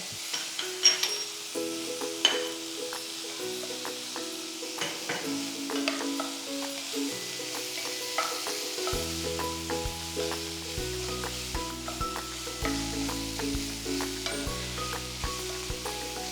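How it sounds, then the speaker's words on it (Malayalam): Masala for a Kerala duck roast is sautéed in a hot pan, giving a steady close sizzle with scattered scrapes and stirring clicks over a background of soft music tones. "ബാക്കി അതിനകത്തേക്ക് ഇട്ട് വഴറ്റുക."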